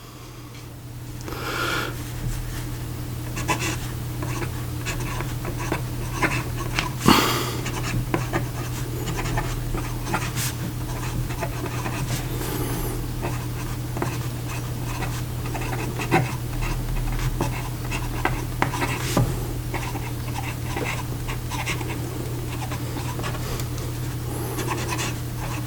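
A Pelikan M1000 fountain pen with a larger nib scratches softly across paper in continuous close strokes, with occasional taps over a low steady hum.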